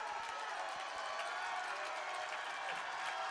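Crowd at a Brookline girls' basketball playoff game cheers and applauds steadily, a dense wash of clapping and shouting that stays loud and continuous throughout, with faint voices mixed in.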